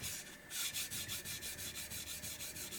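Kitchen knife stroked across a coarse Japanese whetstone, a quiet, close, rhythmic rasping in quick even strokes.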